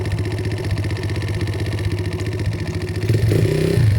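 A built Honda XR100R motorcycle engine runs close by with a rapid, even chugging idle, then revs up louder and higher near the end, heard alone without talk.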